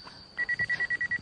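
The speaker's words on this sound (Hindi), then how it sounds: "ओह गॉड, फोन कहाँ बज रहा है?" A telephone rings with rapid electronic trilling pulses, a steady train of short bursts after a brief quiet start, loud and close.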